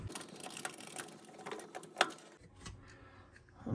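Small clicking and ratcheting mechanical sounds while a screw is worked out of a Samsung dryer heating element, quiet close taps and scrapes with one sharper click midway.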